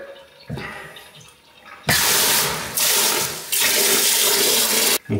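Air-bleeding on a household plumbing line: water bursts out in loud rushing spurts, a strong hissing gush that cuts off briefly and restarts twice, with quieter dripping and trickling before it.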